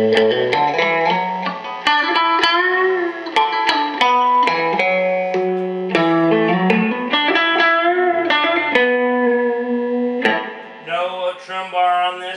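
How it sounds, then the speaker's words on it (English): A Fender Mustang electric guitar played through a small reverb pedal into a Koch amp, ringing chords and picked notes with lush reverb tails and a slightly driven tone, loud and close with no talking. "I have a little reverb pedal."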